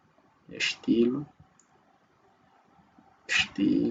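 Mouse clicks on a computer while building a business website in WordPress, two short bursts about three seconds apart, each mixed with a spoken word.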